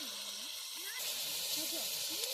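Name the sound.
onions frying with salt in a pan, village cooking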